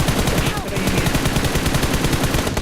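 Rapid automatic gunfire in the BGMI battle royale game, a steady loud burst of repeated shots running continuously without pause.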